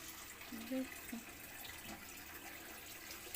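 Tap water running steadily into a sink in the morning, a soft continuous hiss and splash heard close but faint throughout.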